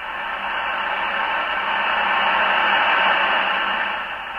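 National NCX-3 tube transceiver receiving on the 20-40-80 meter bands, giving a steady hiss of radio static that swells slightly and holds at moderate level without voices.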